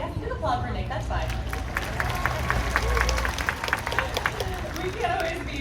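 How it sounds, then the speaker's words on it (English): An audience at a Universal Studios Hollywood animal show applauds a trainer with a moderate spatter of clapping and crowd murmur, with a voice over it. "Yeah, you can applaud for Nick, that's fine."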